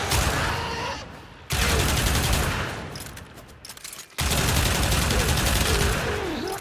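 Pyrana Prime shotgun blasts in the Warframe video game, firing in loud bursts of rapid shots with two sharp breaks between volleys and no talk.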